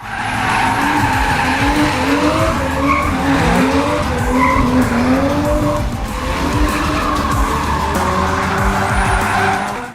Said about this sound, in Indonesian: Rudy pun memasang ban itu dan langsung menggaspol mobil miliknya